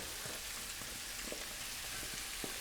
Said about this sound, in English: We're going to add the onions. And we're looking to caramelise them slowly but surely